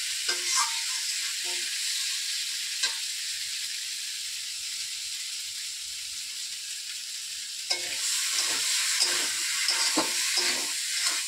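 Spice paste for prawn curry fries in a pan with a continuous bright hiss and sizzle, punctuated by periodic scraping stirs that become more frequent in the last few seconds.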